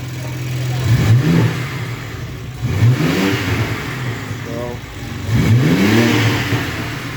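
A BMW M3 G80 engine revs up repeatedly in three loud bursts, rising in pitch each time, then dropping back between revs.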